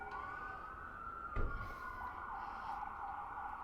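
Ambulance and fire sirens wail faintly in the distance, a long wavering tone with a brief louder thump partway through.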